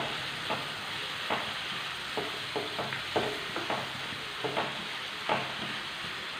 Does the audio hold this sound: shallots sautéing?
yes